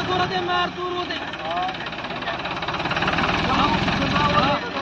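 An older John Deere 5310 tractor with worn tyres, hitched to a 9x9 harrow in a field, runs with a steady diesel rumble and rhythmic low throb while people talk loudly over it nearby.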